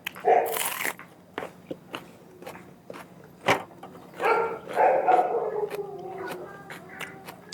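Someone eats fattened beef with fresh chilies and crunchy shallots, producing close, sharp crunching bites and chewing noises at irregular intervals, with a few brief mouth sounds in between.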